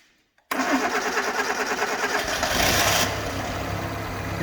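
A 1980 Suzuki LJ80 barn find, idle for 15 years, cranks and fires after a brief silence, then settles into a steady, slightly knocking idle with a short rev midway, close and loud.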